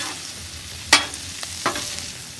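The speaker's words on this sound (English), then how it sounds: "Now is the time we want to add our diced jalapeno to the bacon and sausage mix. And we're going to get this all mixed together." Diced jalapeño stirred into a frying bacon and sausage mix, a steady sizzle broken by two sharp scraping strokes of a utensil in the pan, close and alone.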